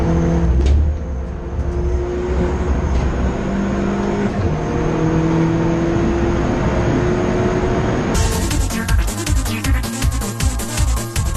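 A favourite car runs on a race track, its engine droning steadily and loudly before a sharp shift to a harsher, pulsing roar near the end, with no talking.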